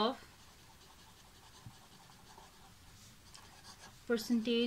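A pen scratches across paper in faint, steady strokes during a math exercise, quiet and close, ending with a brief burst of a voice.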